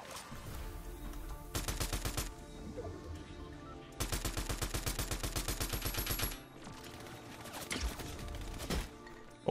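Rapid bursts of automatic gunfire from a Fortnite build fight, several sustained volleys of sharp repeated shots with short gaps between them, moderately loud and without talk.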